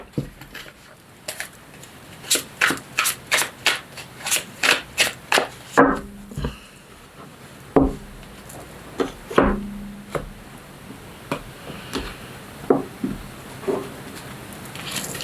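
Lenormand oracle cards shuffled by hand, a close run of quick rhythmic riffling slaps followed by scattered softer taps and flicks as the deck is cut and handled, fairly quiet with no talk.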